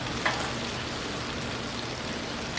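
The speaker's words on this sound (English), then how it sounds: "And then we'll get our sausage on there." Three maple sausage strips sizzling on a hot Blackstone griddle, a steady crackling hiss throughout with a brief louder spatter near the start and no talking.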